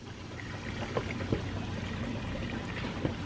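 Aquaponics siphon draining water from a grow bed, a steady low rushing and trickling flow heard from a distance, with a few faint gurgles and splashes and no talk.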